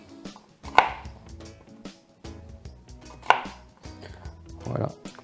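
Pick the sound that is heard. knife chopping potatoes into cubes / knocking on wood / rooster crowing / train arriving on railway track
knife chopping potatoes into cubes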